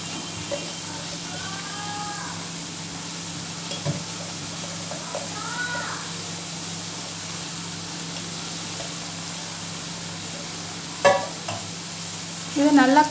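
Washed poha stirred into a frying mixture in a pan produces a soft, steady sizzle with occasional light scrapes. A couple of louder clatters come near the end.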